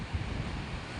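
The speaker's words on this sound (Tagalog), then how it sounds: "mga alon." Ocean waves wash ashore on a beach at Naic, Cavite, a steady broadband roar thick with wind noise, close and continuous through the whole second with no talk.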